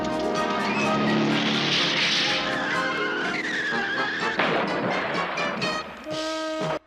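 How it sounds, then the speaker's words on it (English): Cartoon cars play bumper cars in an animated Grinch and Cat in the Hat scene, with loud tire squeals and skidding whines over engine roar, ending in a bright honk-like tone and an abrupt cutoff. "This drives the Grinch to play bumper cars with the cat."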